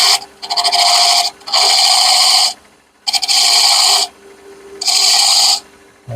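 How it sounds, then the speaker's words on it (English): A peppermill edge is sanded by hand with 120-grit sandpaper, giving four loud, even rasping strokes in a back-and-forth rhythm with short pauses between them. "Take some 120 sandpaper and just clean up that edge, like so."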